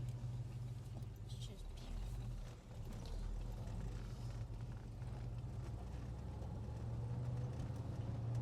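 An EFI El Camino drives along with a steady low engine drone and road noise throughout, close and continuous, while a person speaks briefly over it.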